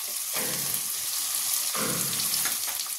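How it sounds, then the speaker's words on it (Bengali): Onions fry in a wok until browned, a continuous close hiss of hot oil that swells in two surges, probably from stirring, with no voices. "এটা ভালো করে লাল লাল করে ভাজবো"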